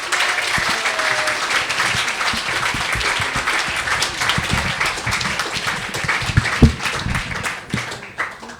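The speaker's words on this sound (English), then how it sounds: "I invite you to applaud the great Grace." An audience at a 5x15 talk applauds steadily, with dense clapping at a constant level the whole time, no voices standing out.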